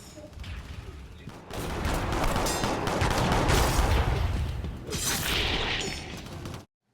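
Dense, rapid bursts of gunfire with booming impacts in the video game Shadowrun, continuous and loud, briefly easing before picking up again, then cutting off abruptly.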